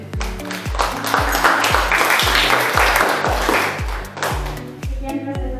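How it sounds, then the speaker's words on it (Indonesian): Classroom group claps after a presentation, loud and near, with strong rhythmic pulses and a tapping beat running under the clapping. "Oke, tepuk tangan sekali lagi."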